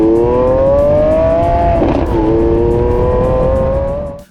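A 2022 Lamborghini Aventador Ultimae V12 revs hard toward 8,500 RPM, its loud rising engine tone sustained and close, with a short dip near the middle before climbing again and fading at the end.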